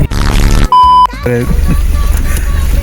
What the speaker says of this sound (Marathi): कशाला हा कशाला बीप करतो?